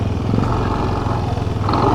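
A motorcycle engine runs close by at the Mabini campsite, a loud, dense, chugging rumble that continues without a break on a rough evening road.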